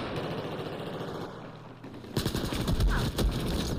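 Gunfire in the video game Battlefield 4: after a quieter stretch of game ambience, a burst of rapid automatic shots erupts and rattles on loudly to the end.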